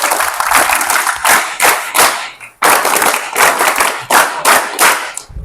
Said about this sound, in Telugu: మీకు మీరు ఒకసారి క్లాప్స్ కొట్టుకోండి అందరు